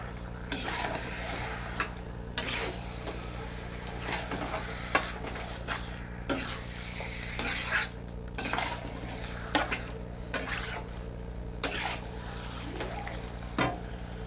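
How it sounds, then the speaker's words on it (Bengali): Spice masala is stir-fried in a pan for a chicken skin dish, with a low sizzle under repeated metal spatula clanks and scrapes against the pan, close by and without speech. "আমি সব মশলাটা দিয়ে দিয়েছি এইটাকে আমি একটু কষে নেবো"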